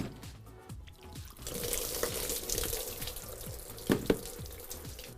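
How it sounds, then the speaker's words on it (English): Water spills from a mold of freezing clear ice into a sink, a steady splashing pour that swells and runs for several seconds, with a couple of louder splashes near the end. "So all the impure water, that was what just spilled everywhere."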